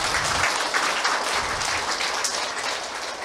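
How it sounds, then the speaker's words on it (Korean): A seminar audience in a hall claps steadily for a few seconds, a dense even patter of many hands at moderate volume with no talking over it. "자, 여기서 박수 한번 쳐주셔야 되는데."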